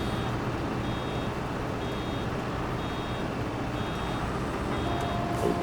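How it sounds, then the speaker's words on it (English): Steady electronic beeping of a vehicle warning tone in a farming video game repeats at an even pace over a constant engine-like rumble, running throughout. "there's this really annoying beeping sound"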